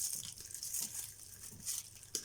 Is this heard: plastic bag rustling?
yes